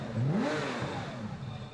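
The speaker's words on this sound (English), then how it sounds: "Starting the engine already, Capras." A Porsche GT3 race car engine cranks and fires up, its note sweeping upward in a quick rev before settling into a rough idle, fairly faint and distant.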